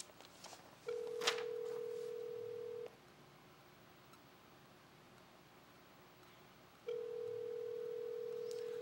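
Telephone ringback tone while a call is placed, two long steady tones separated by a long silent gap, heard clearly over faint line hiss with no talk.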